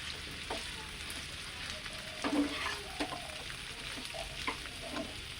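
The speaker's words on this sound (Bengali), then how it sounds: "প্রথমে আমি এগুলোকে ভেজে নেব ভালো করে" Beans, capsicum and other vegetables sizzle steadily in hot oil for fried rice, with soft stirring scrapes and occasional clinks of a utensil against the pan, close and continuous.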